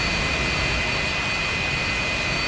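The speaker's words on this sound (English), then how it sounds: "Depending on weight, the aircraft will lift off at 115 to 140 knots." A simulated F-86F jet takes off in a flight sim game, its engine a loud, steady roar with a high whine held constant throughout, no voices.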